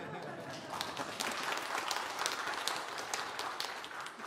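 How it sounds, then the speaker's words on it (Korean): A church congregation applauds a newly opened Korean medicine clinic during a sermon, with dense, sustained clapping that fills the room evenly, a faint murmur of voices underneath. "박수 한번 쳐주면 좋은데"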